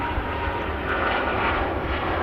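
A Virgin Atlantic Airbus A350 jet repositions at an airport, its engines giving a steady, loud broadband roar and rumble throughout the short stretch with no talking.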